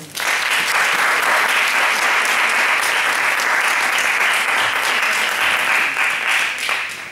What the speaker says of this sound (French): Alors, acclame le Seigneur.